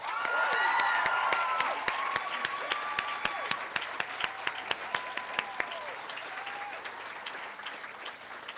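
An audience at a senior school closing ceremony applauds a graduate, steady clapping that swells early, then thins with scattered sharper claps and a few overlapping voices as it fades.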